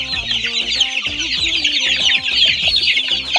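Tiger-breed hens and chicks cluck and cheep busily at morning feeding time, a dense, continuous chatter of many birds close by with no voices.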